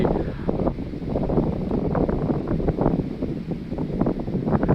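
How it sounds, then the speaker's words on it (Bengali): Wind gusts across an open rural field in a village, a steady broad rushing roar buffeting the microphone, with no voices heard. "হঠাৎ করেই বাতাস বইছে"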